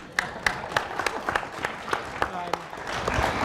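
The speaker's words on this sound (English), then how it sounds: "So we all applaud that effort" A small audience at a university evening event claps in a sparse, loose rhythm of separate, distinct claps rather than a dense ovation. A little talk or murmur sits underneath.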